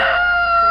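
A single chicken gives a brief, loud, close, sustained call lasting under a second before cutting off abruptly, with no speech.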